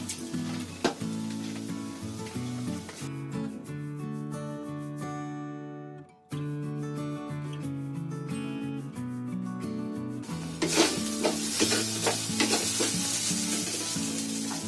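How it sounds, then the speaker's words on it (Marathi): Raw potato fries and sizzles in a pan while being stirred, a steady crackle with scraping strokes. A melodic tonal layer runs underneath and drops out briefly around the middle before the frying swells louder near the end. "ते कच्चं बटाटा आहे ना, ते चांगलं ढवळून घेतलं ना की ते चांगलं शिजतं"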